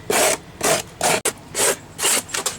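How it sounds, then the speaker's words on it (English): Hacksaw blade dragged across foam board to rough it up, making about six quick, rasping scrapes in a steady back-and-forth rhythm, close and loud with no talking. "Let's try to do something with the hacksaw blade. Look at there, you give it a scrape."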